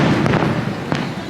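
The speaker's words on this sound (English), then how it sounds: "the fireworks are still going" Fireworks bursting during a July 4th celebration, a continuous rumbling din with a couple of sharper pops, fairly loud and close.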